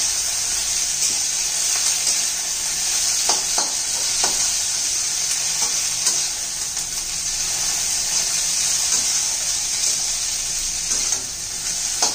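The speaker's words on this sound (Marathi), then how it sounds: "त्याच्यात हा कढीपत्ता, कोथिंबीर छान असं परतून घेऊया." Curry leaves and coriander sautéed with roasted chilli and coconut in a pan, giving a steady close sizzle with occasional stirring scrapes throughout and no talking.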